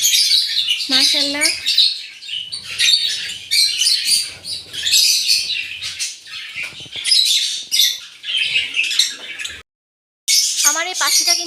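Pet lovebirds and their chicks chirp and squawk in a two-storey nest box: dense, bright, overlapping tweets nearly nonstop, close and loud, with a brief pause near the end and a single short spoken word.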